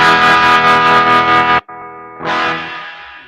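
Electric guitar through an effects unit plays a loud distorted tone, drops to a quieter clean tone, then jumps back up to a loud, bright distorted sound.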